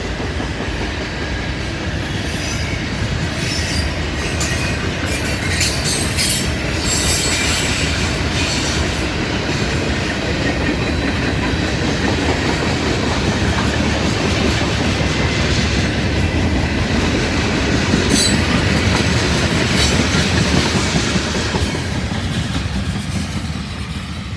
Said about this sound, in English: Some 86-foot boxcars.